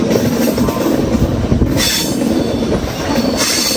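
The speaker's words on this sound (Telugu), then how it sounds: "ఇక్కడ నుంచి చూడండి క్లియర్ గా కనిపిస్తుంది హైట్ ఎక్కేది ట్రైన్. భలే ఉంది ఎక్కుతుంటే పైకి." A passenger train on the Visakhapatnam–Kirandul line climbs into the hills, its wheels squealing loudly and its carriages rumbling and clattering over the rails in a continuous close roar, with no talking.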